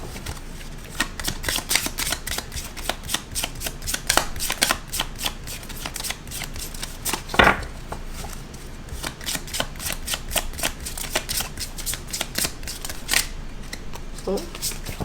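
A tarot deck being shuffled during a reading, steady soft riffling and clicking of cards throughout, with a person talking over the shuffling.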